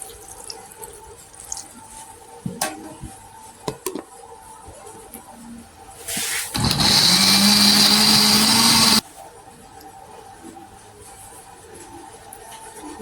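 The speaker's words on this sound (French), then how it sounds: "on va mixer le gombo maintenant." A kitchen blender whirs loudly for about three seconds as it purées okra with water, a steady high motor roar that starts abruptly and cuts off, set between quieter clinks and handling sounds.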